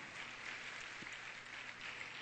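A congregation applauds a young man named Jimmy on his eighteenth birthday: a dense, steady wash of many hands clapping together, fairly close and unbroken from start to finish, with no voices above it.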